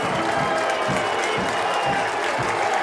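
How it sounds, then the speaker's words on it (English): A high school football crowd roars and claps for the Massillon Tigers against Lakewood St. Edward, a dense, loud, continuous wash of cheering and applause from the stands. "Crowd trying to get behind the Tigers."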